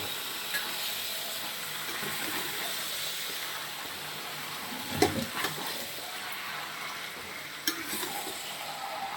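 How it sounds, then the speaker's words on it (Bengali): Chicken pieces coated in spices are turned in a hot pan, a steady close sizzle running throughout with a few soft scraping stirs and a brief clatter near the middle. "এবার এটাকে ভালো করে নাড়িয়ে দেবো"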